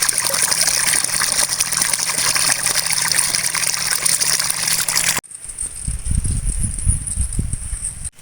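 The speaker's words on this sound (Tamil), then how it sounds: "இப்போ நம்ம கீரையை அலசி எடுத்து வச்சுக்குவோம்" Water gushes loudly while thumbai leafy greens are rinsed, a steady rushing flow that cuts off abruptly, followed by softer splashing and handling of the wet leaves nearby.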